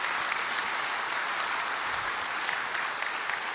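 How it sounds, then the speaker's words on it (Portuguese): A church congregation applauds steadily throughout, a dense even wash of many hands clapping at moderate level with no voices on top. "aplauda a palavra de Deus agora,"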